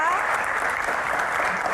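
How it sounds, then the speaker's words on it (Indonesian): Sustained audience applause at an Indonesian talk show, welcoming the guest Rieke Diah Pitaloka to her seat; dense, steady clapping from a crowd, fairly loud and continuous throughout. "Tepuk tangan sekali lagi untuk Mbak Rika Diah Pitaloka"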